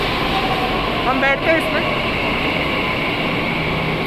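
A Delhi metro train pulls into the station with a steady, loud rumble and hum, and a person talks over it.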